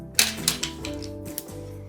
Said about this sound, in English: So I'm going to use tape again.